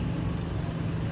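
A Megamas intercity bus on the Morowali to Toraja route rolls past, a steady, loud low engine rumble and road roar filling the short moment without a break.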